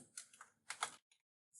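Computer keyboard keys typed in two quick bursts of clicks as a customer's name goes into a registration form, followed by a couple of faint isolated taps, close and clear with no voice.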